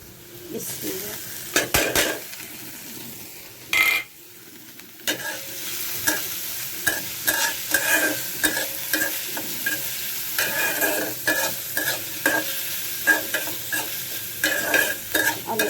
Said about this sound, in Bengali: একটু পালং শাক ভাজি করবো